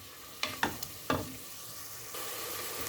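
A garlic mixture stirred in a hot pan, a few quick clattering scrapes of the utensil early on, then a soft continuous sizzle that swells slightly toward the end.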